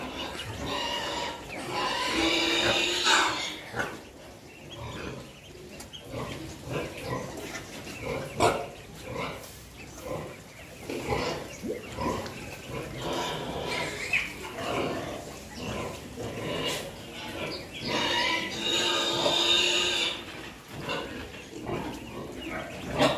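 Piglets and pigs in a farm pen on a Vietnamese pig farm, continuous overlapping grunts and squeals at close range, fairly loud, with no talk.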